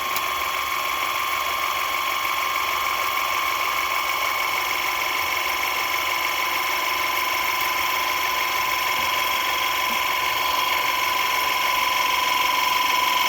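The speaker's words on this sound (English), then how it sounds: "I guess that other was just the compressor, and that's the reason why it's making all that noise." A VEVOR electric car jack's compressor runs with a steady, droning mechanical hum and whine that holds constant throughout, close and alone without any talk.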